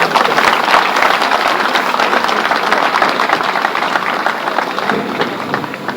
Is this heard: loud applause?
yes